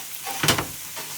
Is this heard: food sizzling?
yes